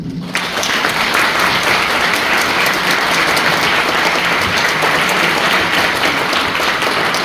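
A university lecture audience applauds loudly and continuously for an award presentation, a dense, close wash of clapping that holds steady from start to finish.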